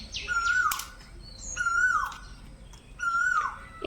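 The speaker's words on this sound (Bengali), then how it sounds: "এই সময় কোকিলের ডাক শুনতে পাওয়া যায়" A koel calls three times in a rising, repeated whistle, fairly clear outdoors against a low background hiss, with faint softer bird notes between calls.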